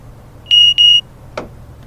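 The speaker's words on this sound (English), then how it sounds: "There's the bell." Two short electronic bell tones ring from a Class 175 train cab in a simulator game, each about a quarter second, followed by a brief click.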